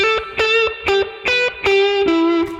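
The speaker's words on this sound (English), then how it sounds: "with the distortion level of the Vibrolux amp, you get this fat sound" Distorted electric guitar on the neck pickup through an overdriven Vibrolux tube amp plays a short phrase of sustained notes with rich harmonics, each note ringing out before the next.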